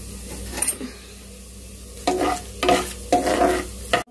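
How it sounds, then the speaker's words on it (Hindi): Whole spices, including cardamom, crackle and sizzle as they roast in a hot pan, with a few scraping stirs of a utensil, quiet at first then louder bursts. "कड़े मसालों को अच्छे से सेक लेंगे हम"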